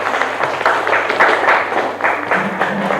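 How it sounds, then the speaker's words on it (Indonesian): Audience applause after a teacher-training presentation in a classroom setting, a steady wash of clapping lasting a few seconds with some overlapping talk and crowd noise underneath. "Tepuk tangan sekali lagi untuk kalian semua."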